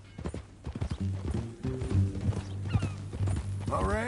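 A horse clip-clops along at a walk in the video game Red Dead Redemption II, with hoofbeats steady under men's dialogue and a brief whinny near the end.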